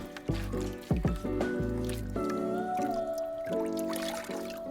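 Saturated media from a Fluval FX4 canister filter is rinsed by hand in water, giving wet squishing, sloshing and dripping sounds in irregular bursts, close and fairly loud, with no talking.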